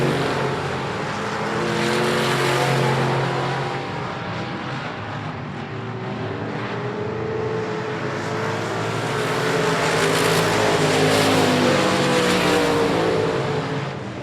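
Race cars lap a short oval at I-37 Speedway during a regular race program, engines roaring steadily and swelling as the pack passes, with broad continuous motor noise and no talk heard.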